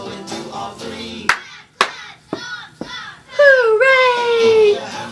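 Children at a library storytime clapping along to "If You're Happy and You Know It," with a few sharp claps between sung lines and excited young voices and cheering toward the end.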